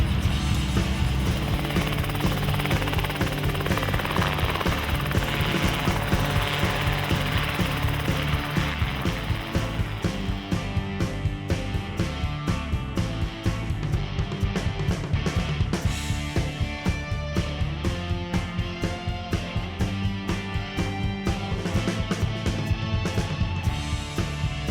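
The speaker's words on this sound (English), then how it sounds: "This is the Rotorway 162F model." Rotorway 162F kit helicopter with a 162-cubic-inch, 2.65-litre, roughly 150 hp engine in flight, a loud continuous rhythmic rotor chop and mechanical clatter that stays steady throughout, no talk.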